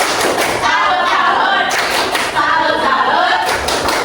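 A group claps in loud, steady unison during a training session, the beat carrying on continuously with voices mixed into the clapping.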